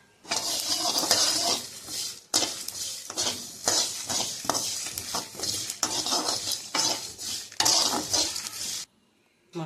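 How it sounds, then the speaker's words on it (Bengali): Spices for a jujube pickle fry in a pan while being stirred, rhythmic scraping strokes over a light sizzle, close and fairly loud, stopping abruptly near the end. "এবারে সব মশলাগুলো দিয়ে ভাজবো এর সঙ্গে"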